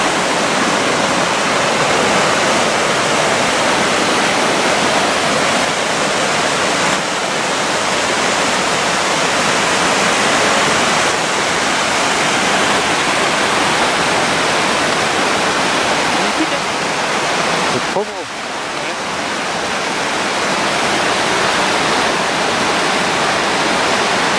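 Cascade du Moulin du Saut, a waterfall, pours in a loud, steady, unbroken roar of rushing water. People talk faintly under it.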